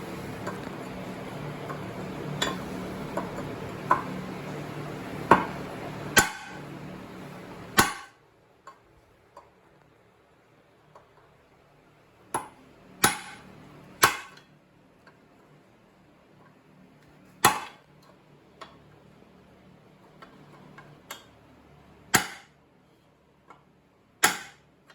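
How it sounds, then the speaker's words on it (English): Sharp, ringing metallic hammer strikes drive a chisel into a suspension bushing sleeve on a 1965-1970 Impala/Caprice laid on concrete, landing as a dozen or more separate, loud, close blows spaced unevenly with short pauses between them. "Take that chisel and cave it in on the side."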